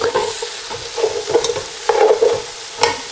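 Chicken pieces browning in a pot for stock sizzle and crackle steadily, with an utensil stirring and scraping through them in irregular bursts, close and moderately loud.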